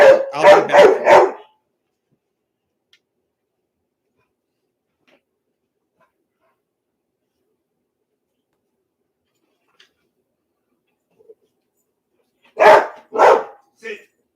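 A small dog barks in two bursts of three or four sharp, close, loud yaps each, separated by a long stretch of near silence.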